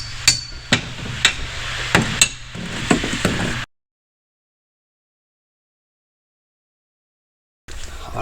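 Rock slider bolts being tightened on a Polaris Pro XP side-by-side, a series of sharp metallic clicks and knocks from a ratcheting tool, close by, then a stretch of silence.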